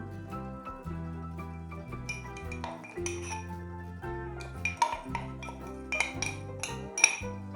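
A spoon clinks and scrapes against a bowl in a quick irregular rhythm while stirring strained sour cream with powdered sugar, ringing lightly over a steady background tone.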